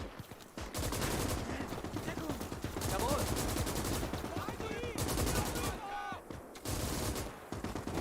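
Rapid bursts of Maxim machine gun fire in the WWII game Gates of Hell, dense and loud, repeating in long sustained strings with brief gaps and other battlefield noise mixed in.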